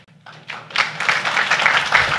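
Audience at a city council meeting breaking into applause, starting thinly and swelling quickly into steady, fairly close clapping from a moderate crowd.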